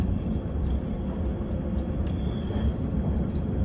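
Sydney commuter train of eight carriages running between stations, a steady close rumble of wheels and car body with a faint high whine, continuous and without talk.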